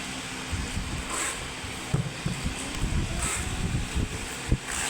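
Steady wind rushing and buffeting against the microphone, with low rumbling gusts throughout.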